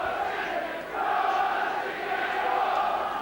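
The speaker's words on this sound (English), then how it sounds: "Out to Ian Sibbett, who scores and salutes the crowd." Rugby league crowd in a Challenge Cup match between Whitehaven and Warrington cheers a try, a loud, steady roar of many voices filling the stadium with a slight swell partway through.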